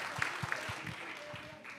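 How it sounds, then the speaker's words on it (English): Applause from an audience at a youth evidence symposium, moderately loud and steady for a couple of seconds, with a voice speaking briefly over it. "just one more applause for all of the young people."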